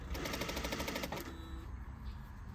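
A sewing machine runs an understitch along an inner concave curve of a garment, a quiet rapid mechanical rattle for about a second before it stops and soft handling noise follows.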